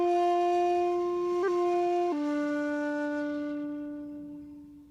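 A shakuhachi flute plays a simple, slow phrase of a few sustained, breathy tones that shift pitch once or twice before fading into a long held note, heard alone and close.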